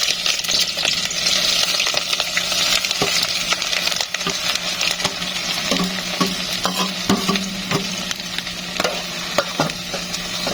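Chopped onions sizzle steadily in moderately hot oil in a pot for goat meat and potato curry, a dense continuous crackle with scattered stirring clinks close by, no talk.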